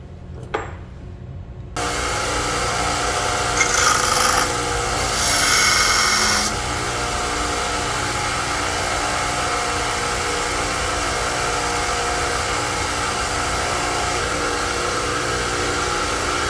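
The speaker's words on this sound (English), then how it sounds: "I'm actually gonna go hit up the belt grinder and sand this a little bit." A belt grinder sands a metal tap wrench part, starting after a short quiet moment and then running as a loud continuous roar, with a brighter grinding surge for a few seconds while the metal is pressed to the belt.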